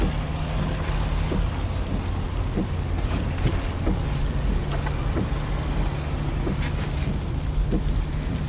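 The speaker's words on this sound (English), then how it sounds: "This is the sound of your ride home with Dad after he caught you vaping." Steady low interior rumble of a car driving home, with a constant road and engine drone and occasional soft thumps and clicks, no talking.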